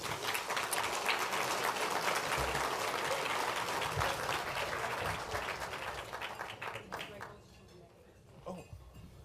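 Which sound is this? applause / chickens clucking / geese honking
applause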